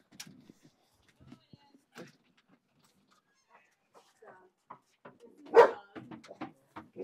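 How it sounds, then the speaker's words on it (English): A dog lets out a few short, sharp barks indoors, spaced irregularly among quiet household sounds, with one louder bark standing out near the end. "Dog."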